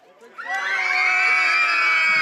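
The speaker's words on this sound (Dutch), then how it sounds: "En hoe klinkt gillen?" Children at the Soetesuikerbol music festival in 2013 scream together on cue, a loud sustained high-pitched crowd shriek that swells quickly and holds steady.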